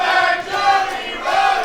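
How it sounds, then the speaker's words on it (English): A crowd at a PrideStyle Pro wrestling main event cheers and chants in loud, sustained swells, with a brief dip before the voices rise again. "the crowd is torn"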